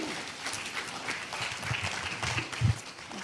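A conference audience at a national congress of care-home directors applauds, the clapping a soft, dense, somewhat distant wash with low room rumble beneath, never quite rising to a peak.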